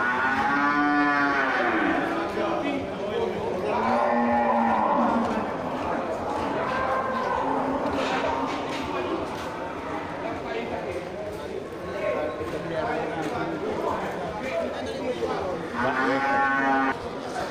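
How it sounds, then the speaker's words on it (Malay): Cattle-like moos from Aceh water buffalo ring out repeatedly, loud and near, over a busy outdoor buffalo market background with people talking. "Ini kerbau Aceh asli bang."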